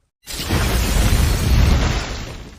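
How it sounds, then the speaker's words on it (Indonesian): A loud, close explosion erupts suddenly after a moment of silence, a deep rumbling blast that roars for about two seconds before starting to fade. "bom yang akan meledak saat ada panggilan telepon masuk"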